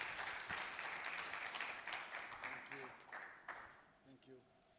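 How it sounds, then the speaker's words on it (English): Steady applause from a seated conference audience welcoming a keynote speaker, a dense wash of clapping that fades gradually over several seconds with a few scattered claps and faint voices at the end. "a little applause"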